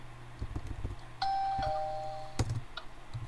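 A doorbell rings in Minecraft: a clear two-tone electronic chime sounds once midway, over faint soft tapping and game noise.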